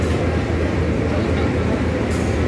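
A locomotive pushes Pakistan Express coaches onto a station platform, giving a dense, loud, continuous low rumble and rolling noise heard up close.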